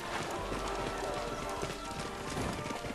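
Horses and carts roll along in the WWI video game Valiant Hearts at St. Mihiel: steady clip-clop of hooves over a dense, continuous rumble of wheels and wartime background noise, fairly loud throughout.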